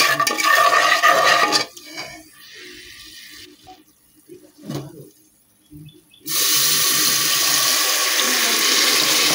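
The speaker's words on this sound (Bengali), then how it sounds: "এরপরে এর মধ্যে আমি সিদ্ধ করে রাখা ডাল দিয়ে দেবো" Boiled dal poured into a hot spice tempering with kasuri methi, a loud rushing hiss that drops to near quiet with a few scrapes, then surges back into a strong, steady sizzle.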